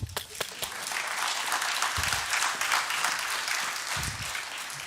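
A panel audience at a supercomputer pre-inauguration seminar breaks into applause, a moderate, fairly distant patter of many hands that stays steady and fades toward the end.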